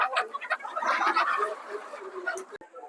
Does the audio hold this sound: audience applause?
no